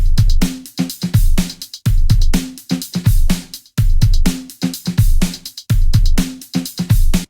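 A type beat with punchy drums, added hi-hats and a bright arpeggiated synth. The beat plays loud and steady, without voices, and its kicks and snares pulse in a driving, repeating pattern.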